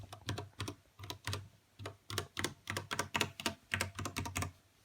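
Steady typing on a white Ducky One 2 Mini mechanical keyboard with red switches, a quick run of close, crisp keystrokes in short bursts, with no talking.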